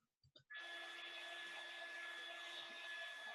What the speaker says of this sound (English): I hear like water running in the background, maybe like a dryer going.